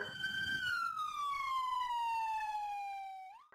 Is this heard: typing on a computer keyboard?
no